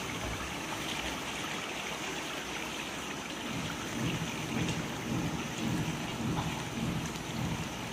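Boiled dal mash fries in a pan with yogurt, giving a steady, close hiss and crackle that thickens partway through and carries on without a break.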